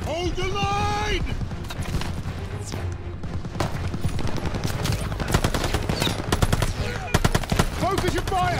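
Machine gun fire in Call of Duty Vanguard, with rapid, dense bursts of automatic shots rattling continuously alongside mechanical clanks, under shouting voices.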